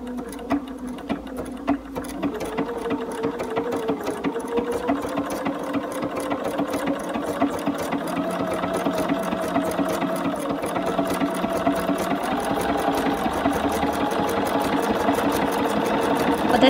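A BERNINA sewing machine stitches a Spanish hemstitch at a slow, steady pace, its motor humming evenly with a fine repeating needle rhythm that grows slightly louder over time, heard alone without talk.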